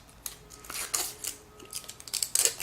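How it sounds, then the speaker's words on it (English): Thin plastic film is peeled off a new 2010 iPod Nano, giving close, crinkly rustles and crackling snaps in irregular bursts that grow busier toward the end. "I'll go ahead and peel it off the plastic."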